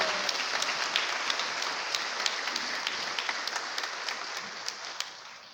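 A church congregation applauds together, a steady wash of clapping that carries evenly throughout with scattered sharper claps, no voices over it.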